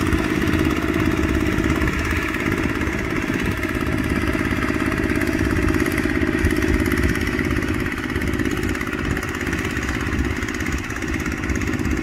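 A tractor plows a field being turned from a water spinach plot into a rice paddy. Its engine drones loudly and steadily throughout with a rough, clattering mechanical rumble and no speech.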